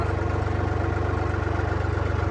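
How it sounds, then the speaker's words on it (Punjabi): A farm tractor engine idles close by, a loud, steady low throb with an even rapid pulse, running alone without talk. "ਆਹ ਟਰੈਕਟਰ ਲੈ ਚੱਲੇ ਘਰੇ"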